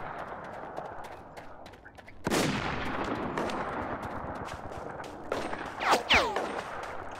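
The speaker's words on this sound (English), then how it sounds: "Who's shooting at me?" Gunfire in the shooter game War Inc Battlezone: bursts of rifle and machine-gun shots crackle at mid distance, jumping into a sustained louder volley after a quiet stretch, with sharp close reports near the end.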